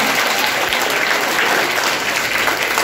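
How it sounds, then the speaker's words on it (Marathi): A school audience applauds at a Marathi Day quiz in a primary school, loud dense clapping that stays steady and close for the whole stretch, with no voices standing out. "वाजवा टाळ्या"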